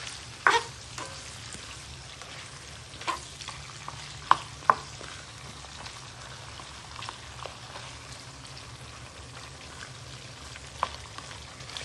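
Ginger cooks in a pan for Chinese sweet and sour chicken, giving a quiet, steady sizzle broken by a few sharp clinks and scrapes of stirring.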